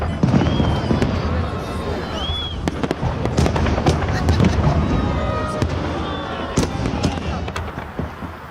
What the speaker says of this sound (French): Cette journée singulière se termine par un immense feu d'artifice dans le ciel de Saint-Pétersbourg